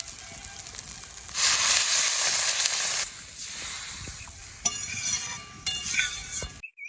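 Water poured into fried, cooked-down spice masala in a pan for a fish curry bursts into a loud, hissing sizzle for a couple of seconds, then settles into a softer simmer with a few utensil clinks.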